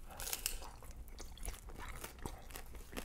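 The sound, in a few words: biting into crunchy cheesy edge of pan pizza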